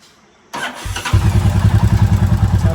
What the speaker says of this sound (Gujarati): તમને એકવાર બાઇકનો અવાજ સંભળાવી દઉં